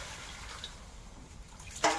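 Dal being poured into a frying pan after frying, a soft watery pouring and sizzling wash that ends in a brief louder splash, close and faint.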